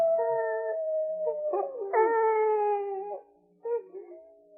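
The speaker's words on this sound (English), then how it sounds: "I think it's that howling coyote that's bothering us." A coyote howls in a radio drama sound effect, long wavering cries rising and falling in clear tones, broken by a short pause and a yipping tail, heard alone without talk.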